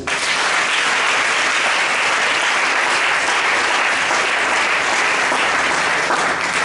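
A church congregation applauds steadily and loudly throughout, a dense unbroken wash of clapping during a worship service, with no talk.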